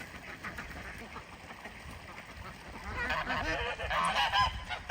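Geese honk angrily on a farm, a rising chorus of harsh, overlapping calls that grows louder toward the end, with a person's voice talking over them.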